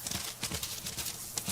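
Quick, irregular hoofbeats clatter for a moment in Diablo IV, a galloping horse passing close by with a light rhythmic thud.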